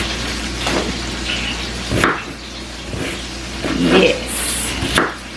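A knife chops onions on a board for homemade turkey burgers, giving a few sharp, irregularly spaced chops, close and loud, with a brief spoken word.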